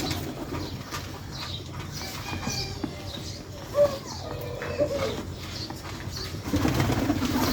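Pigeons coo softly in a pigeon house kept warm with sawdust, the low calls fairly faint and scattered over a steady background rustle, with a brief louder sound near the middle.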